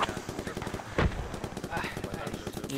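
Rifle fire in the WW2 shooter Project Reality at Omaha Beach, with repeated shots and one heavier blast, heard under someone talking.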